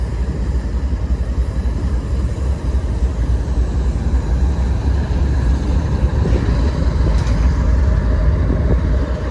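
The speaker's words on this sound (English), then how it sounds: "That's the CN train, it looks like." A CN intermodal freight train rolls steadily across an international bridge, a loud, continuous low rumble with wheel and rail noise that holds without a break from start to finish.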